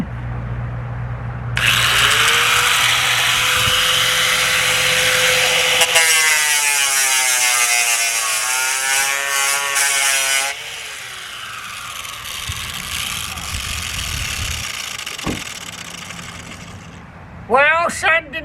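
A power sander with a sanding disc grinding against metal L channels inside an open van, a loud sustained whine with shifting pitch, stopping and restarting, with a brief clatter near the end.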